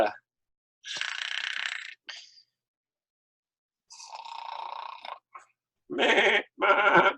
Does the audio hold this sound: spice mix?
no